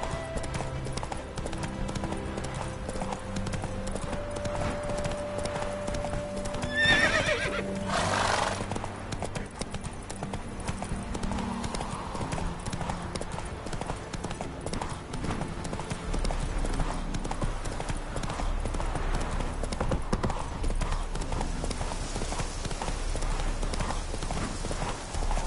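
Horse galloping in The Witcher 3, steady rapid hoofbeats running throughout with a neigh partway through, set against a continuous game music and ambient bed.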